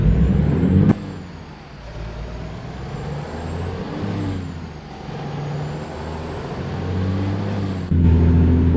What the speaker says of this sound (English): Let's go ahead and get the air brakes off and let's roll out of here.